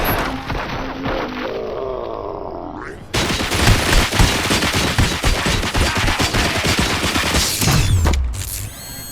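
Sustained automatic gunfire in RoboCop: Rogue City, a loud dense rattle of rapid shots lasting several seconds after a quieter opening of mechanical whirring and tones, then cutting off abruptly near the end.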